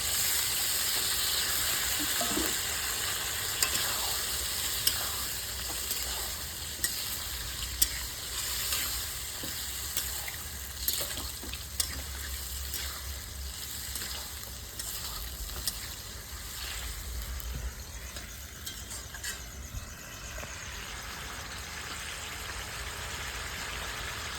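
Chicken curry in a pan sizzles and hisses steadily as a little marinade water is added, a continuous moderate frying crackle with scattered sharp pops and stirring clinks throughout, and no talking.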